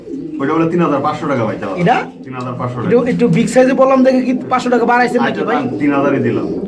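Pigeons kept for sale, about fifty pairs at a seller's setup, coo nearby beneath loud, continuous talking that dominates the sound.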